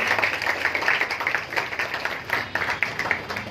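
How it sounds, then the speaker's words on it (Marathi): An audience claps together to welcome guests at a women's college event, a dense, continuous patter of many hands held at a steady level throughout. "आपण पण टाळ्या वाजवून त्यांचं स्वागत करूया."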